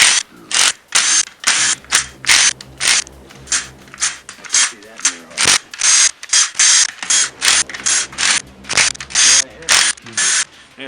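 A ratchet loosens camshaft bolts on a Volvo B20 engine, giving loud, close, rhythmic bursts of rapid clicking in repeated strokes for the whole stretch, with short pauses between strokes.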